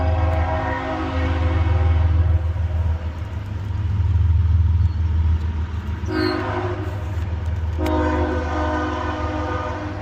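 A train rumbles past near wetlands, a loud steady low roar of rolling wagons with a horn sounding and brief tonal squeals, continuous throughout.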